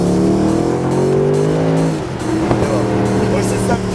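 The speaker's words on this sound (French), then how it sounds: "C'est vraiment le bruit du V8." Mercedes SLS AMG Roadster V8 engine accelerating with a loud, rising harmonic growl that sweeps upward, dips briefly, then climbs again as the car pulls hard; a voice is also present.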